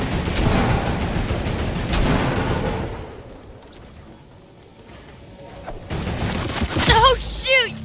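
Turret gunfire in Fortnite playground mode: a dense, loud stream of rapid shots, a quieter lull, then another heavy volley mixed with in-game effects.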